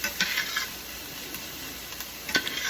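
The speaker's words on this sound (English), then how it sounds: "I'll let the onions start to cook just a bit" Onions beginning to cook in a pan give a soft, steady sizzle, with a few light scrapes and clinks of a utensil stirring them close by, and no talking.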